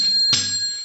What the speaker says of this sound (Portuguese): ative aquele famoso sino da notificação